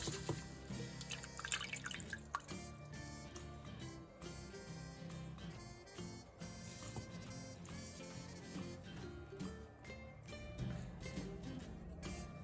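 Microgreen seeds being rinsed with water in a kitchen, a faint, irregular run of drips, splashes and trickling close by, with no talking.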